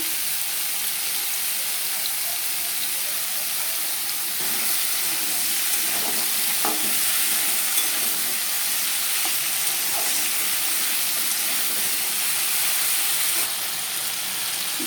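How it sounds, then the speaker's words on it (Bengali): Potatoes fry in a pan with a continuous, even sizzle and hiss that runs steadily throughout, with a few faint clicks of stirring and no talking. "আমার আলু ভাজা হয়ে গেছে"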